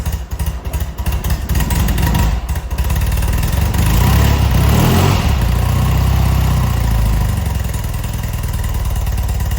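A BMW R100RS motorcycle engine runs close and loud, its carbureted boxer twin idling with an uneven pulse before settling into a steadier, fuller running note.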